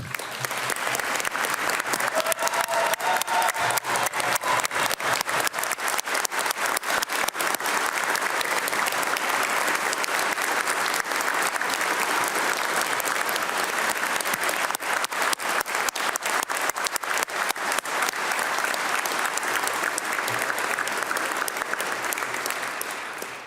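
Sustained applause fills the Minnesota legislature chamber during a joint convention for the State of the State address, steady and dense for the whole stretch with a few faint voices underneath.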